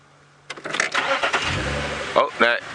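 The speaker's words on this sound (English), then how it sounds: "Oh, no, it didn't like me starting the car." A safari vehicle's engine cranks and catches, settling into a rough close idle with a couple of revs, while a person talks over it.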